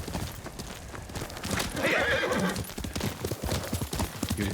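A horse in a Ghost of Tsushima game scene whinnies loudly over a steady clatter of hooves, up close and fairly busy, with no talking.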